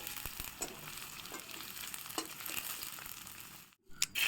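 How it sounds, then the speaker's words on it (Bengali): Potatoes frying in oil in a pan for a banana-flower curry, a steady moderate sizzle with a few stirring clicks and a brief drop near the end. "এবার আমি ওই তেলেই আলুগুলো ভেজে নিব।"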